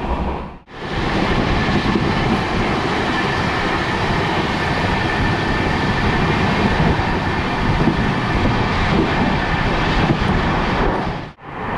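An Amrit Bharat Express passenger train on its first commercial run from Malda to Bengaluru races along a chord line, giving a loud, steady, broadband roar of wheels and rushing air for about eleven seconds.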